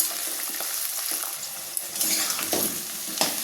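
Potatoes, onion and garlic fry in a pan for a jackfruit and prawn dish, with a close, steady sizzle and scraping spatula strokes at an uneven rhythm.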